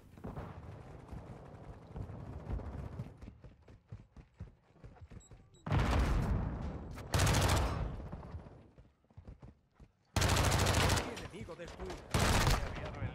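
MP5 submachine gun fire in the video game Modern Warfare 2 comes as loud, dense automatic bursts, several sharp volleys over a continuous backdrop of game noise, punctuated by short pauses.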